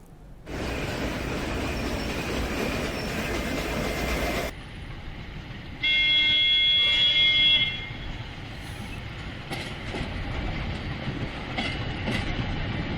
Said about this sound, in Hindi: ये रेल मेट्टुपालम से ऊटी तक हसीन पहाड़ी रास्तों पर चलती है।